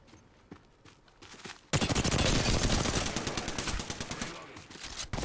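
Rapid gunfire from an Apex Legends match, including Peacekeeper shotgun blasts, erupts after a quieter opening into a loud, sustained burst of close, crackling shots that taper slightly before the end.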